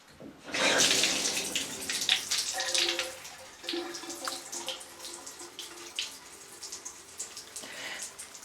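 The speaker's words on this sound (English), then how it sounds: "now I'm going to turn on the faucet to make sure that the water is actually shut off" A shower faucet gushes strongly at first after the water is shut off, then the flow weakens into a sputtering, dwindling trickle with drips as the line drains.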